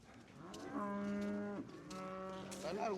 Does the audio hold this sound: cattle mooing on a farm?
yes